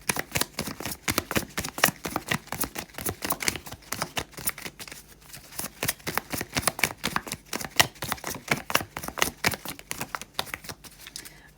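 Cards being shuffled during a tarot reading, with rapid riffling flutters and crisp taps repeated in quick bursts, close and fairly quiet, with no talking.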